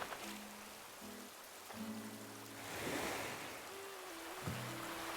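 Rain and surf wash steadily on a beach in a fishing video game, a soft continuous hiss of falling rain and breaking waves under sustained tonal game music.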